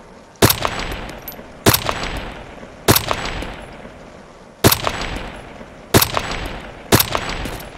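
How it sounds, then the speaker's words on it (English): Video game gunfire rings out in six sharp, loud shots at irregular intervals, each with a short ringing tail, over a quiet background. "Ooh, I'm getting shot at."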